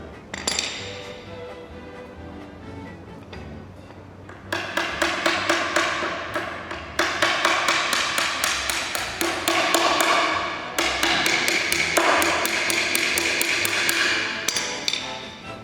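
A hammer taps wooden cradle strips onto a wood panel in steady runs of quick, sharp, ringing blows, close and loud, with brief pauses between the series of strikes.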